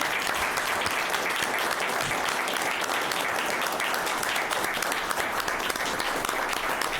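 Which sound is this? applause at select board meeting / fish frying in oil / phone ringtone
applause at select board meeting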